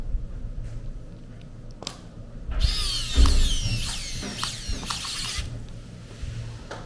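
Small screws are driven back into a Hoto glue gun housing with a power screwdriver. Short whirring bursts alternate with clicks and a few ratcheting taps, close by and fairly loud.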